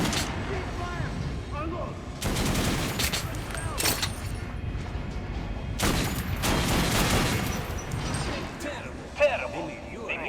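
Bursts of gunfire hit a target dummy in Metro Last Light, loud and clustered into two heavy volleys with scattered single shots between. Game voices speak under the shooting.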